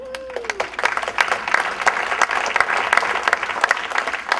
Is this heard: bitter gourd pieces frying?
no